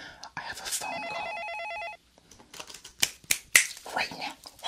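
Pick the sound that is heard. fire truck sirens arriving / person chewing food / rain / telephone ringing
telephone ringing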